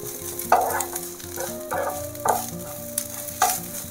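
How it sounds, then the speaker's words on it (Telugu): Mint leaves fry in a pan, a low sizzle punctuated by several distinct stirring scrapes of a spatula at roughly half-second to one-second intervals, close and clear with no voices. "చూడండి ఎంత బాగా ఫ్రై అవుతుందో"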